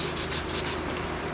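A surface on a Hobie 16 catamaran is hand-sanded to rough it up for adhesive, a loud close scratchy rubbing in quick back-and-forth strokes.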